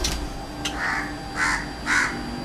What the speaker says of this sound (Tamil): ஏன் காக்கா கத்திக்கிட்டே இருக்கு?